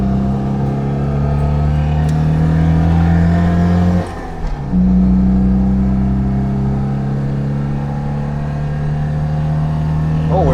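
A Citroen 2CV's small engine drones loud and steady from inside the car as it rounds a roundabout, its pitch dipping briefly when the driver shifts gear before climbing again.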